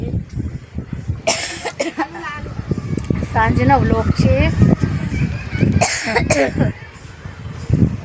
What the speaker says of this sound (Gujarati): ઉધરસ આવે છે,